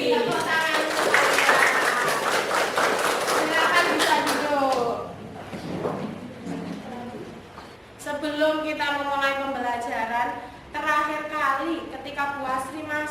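Schoolchildren in a geography classroom clap in a quick burst mixed with their own voices. The clapping dies out and is followed by teacher and student talk.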